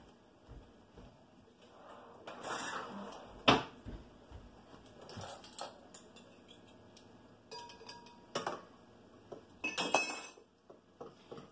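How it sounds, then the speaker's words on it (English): Honey being stirred into a bread mixture in a bowl, with scattered clinks and scrapes of a utensil against the bowl between quieter moments. "And now let's mix the honey in the"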